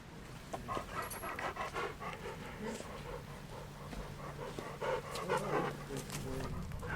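Dogs pant steadily and rapidly up close on a backpacking trail near cliffs in Kentucky's Red River Gorge, with occasional faint whimpers and rustling outdoors, no talking.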